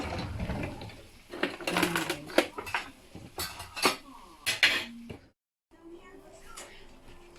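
A knife cuts sea bass on a board while cooking, with a series of sharp, irregular knocks and clatters close by, a brief silent gap, and some background talk.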